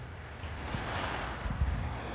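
Sea waves washing onto a beach at Lobo, Batangas, a steady broadband rush of surf with wind buffeting the microphone throughout, close and continuous with no talking.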